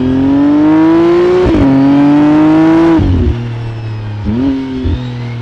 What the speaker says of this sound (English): Car actually sounds pretty good.